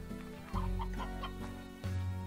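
Chickens in the video game Slime Rancher give a few short clucks over steady, looping game music, fairly quiet in the mix.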